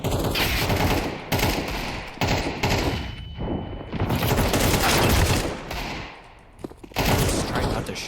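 Rapid bursts of automatic gunfire rattle through a video game match, dense and loud for most of the stretch with brief lulls, close to the player.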